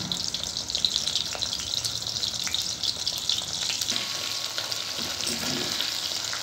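Coated soybean chunks fry in a pan of hot oil, giving a steady close-up hiss and crackle with occasional stirring clinks and no talking.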